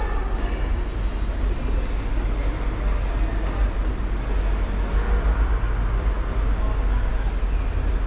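A steady, loud rumble of a London Underground train running near Baker Street, continuous roaring noise with no voices.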